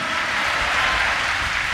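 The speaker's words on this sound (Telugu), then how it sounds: "చప్పట్లు కొడుతూ గట్టిగా స్తోత్రం." Congregation clapping loudly while praising at a Sunday service of Hosanna Ministries in Gorantla church, a dense, continuous wash of many hands applauding together without pause.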